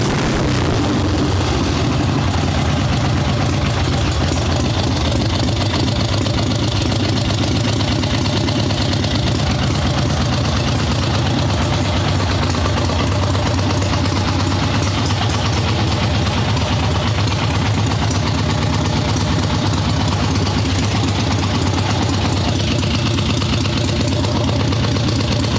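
A swap meet chopper motorcycle engine with a fully mechanical Mikuni carburetor and no accelerator pump idles steadily, loud and close, a continuous low rumble that runs on without talk.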